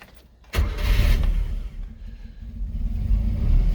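A Subaru Sambar minitruck's small engine cranks and catches at once, settling into a loud, close, steady idle with a slightly uneven rumble.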